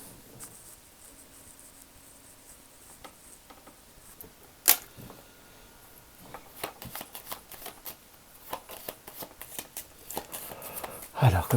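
Tarot cards are shuffled and handled close by, with soft riffles and sharp flicking snaps that grow busier toward the end while a voice talks quietly in the room.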